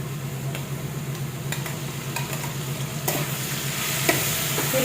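Green chillies sauté in hot oil with cooked potatoes in a pan, a continuous close sizzle with scattered light pops and faint stirring ticks, growing slightly louder toward the end.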